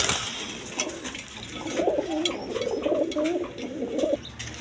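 Crested pigeons in a seller's coop give a long run of throaty cooing, rising louder midway and rolling on continuously, close by, with faint background noise and no talk.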